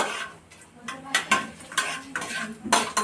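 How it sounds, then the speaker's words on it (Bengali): Black cumin and chili being stirred in a metal pan, a spoon scraping and clinking against the cookware in several uneven strokes, close and moderately loud with no talking. "দিয়ে ভালো করে একটুখানি নাড়াচাড়া করে নেব।"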